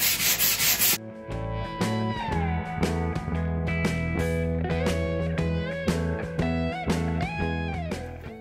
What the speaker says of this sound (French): je vais pas vous infliger tout le ponçage